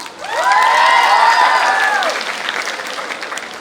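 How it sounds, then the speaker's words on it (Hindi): Students at a campus tribute event burst into loud clapping mixed with cheering and a few high whistles or shouts, swelling quickly and then tapering off near the end. "इसके लिए तो ताली बजाओ।"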